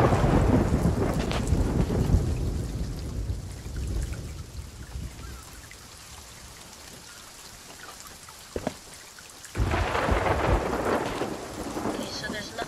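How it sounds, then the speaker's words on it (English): A thunderstorm in the Sea of Thieves video game: heavy rain hisses over deep rolling thunder that fades to a quieter stretch, then a loud crack and a fresh burst of downpour. "do you want to wait till the storm's over?"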